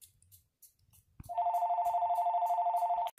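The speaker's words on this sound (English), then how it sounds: "I got a phone call." A telephone rings with an incoming call: a loud, steady, warbling electronic tone that sounds for just under two seconds and then cuts off abruptly. Nothing else is heard around it.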